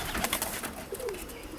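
Old white racing pigeon cock bird cooing outdoors, a brief soft coo that sits faintly within a broad wash of wind and background noise.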